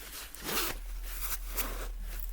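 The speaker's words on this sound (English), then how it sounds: "I have to zip it up because it's cold" A sweater zipper is pulled up in a few quick rasping strokes, close and crisp, with short pauses between pulls and no talking.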